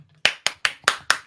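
One person claps five times in a quick, even rhythm, close and crisp, with no talk.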